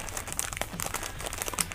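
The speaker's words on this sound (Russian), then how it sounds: "Какой-то пакетик там внутри. Ой, его не так-то просто лопнуть." A packet inside a plastic product squeezed by hand, producing a dense run of close crinkling and crackling plastic, brisk and irregular, with no voice over it.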